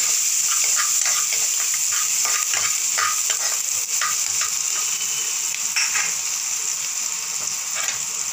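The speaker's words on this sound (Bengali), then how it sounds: "দিয়ে একটু ভালো করে নেড়ে দেবো।" Garlic, ginger and onion sizzle steadily in hot oil in a pan while being stirred, with a continuous bright crackle and intermittent scraping clicks, close and loud with no talk.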